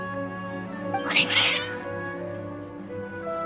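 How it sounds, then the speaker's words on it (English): Agitated cat meows and a short caterwaul from the game Genshin Impact, a brief burst of yowling over a steady tonal music bed. "Your cats seem pretty worked up."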